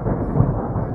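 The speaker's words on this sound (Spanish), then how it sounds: "Ya se viene la tormenta." Deep, loud thunder from an approaching storm, a continuous low rumble with no break and no voices, filling the whole second.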